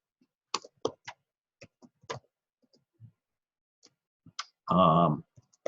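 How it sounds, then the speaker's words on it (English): Typing on a computer keyboard, sparse irregular key clicks spread across the moment, ending in a short louder buzzing burst, with no speech. "I'm typing it in"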